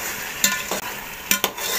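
Chicken biryani with biryani masala and salt being stirred in a pot over a soft background sizzle, with four sharp scraping strokes of a spoon against the metal.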